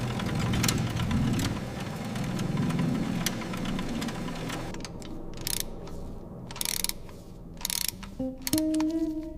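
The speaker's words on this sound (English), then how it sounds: "The hoist lifts the heavy block from its cradle." A hoist lifts a heavy Rolls-Royce engine block from its cradle, giving a run of clanking ratchet and chain clicks with metallic knocks, followed by a few brief squeaks, close by and fairly quiet.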